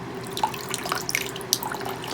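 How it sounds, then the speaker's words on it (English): Water pouring gently onto a potted plant, a steady soft trickle with small splashes and drips close by. "pour the water here."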